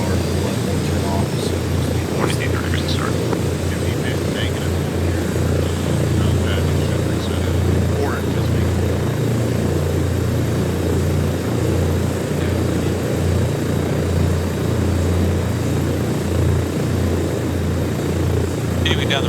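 A helicopter lifts off in the video game ArmA 3, its loud rotor thump and engine whine droning steadily throughout with faint voices underneath.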